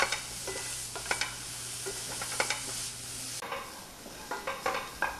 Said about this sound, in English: we're just going to stir this around until the onions are soft and the walnuts start